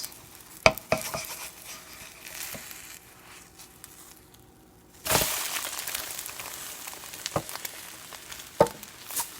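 An egg omelette sizzles softly in a pan, with a few scraping clicks and a sudden louder burst of frying near the middle as it is flipped, then a steady crackle continues.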